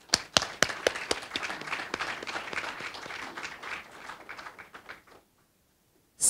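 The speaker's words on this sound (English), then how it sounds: "can we give him a round of applause?" Applause from a lecture audience, beginning with a few sharp separate claps and building into steady clapping for about five seconds before stopping abruptly into silence.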